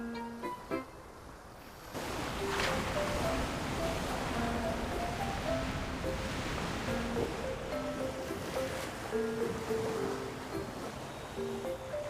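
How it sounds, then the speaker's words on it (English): Ocean waves wash in steadily in the Blossom Escape video game, a broad continuous surf roar that swells loudly after a quieter opening, with soft game music tones layered over the water. "The sound of the waves seems to be getting louder."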